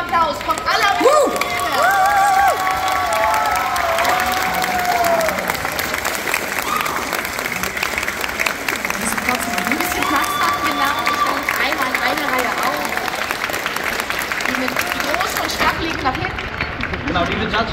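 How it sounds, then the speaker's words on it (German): Loud, sustained audience applause with cheering fills a cosplay contest stage as participants come up for the prize ceremony at a convention in Bremen, with crowd hubbub throughout and a host's voice briefly over it. "unter einem tosenden Applaus kommt alle auf die Bühne"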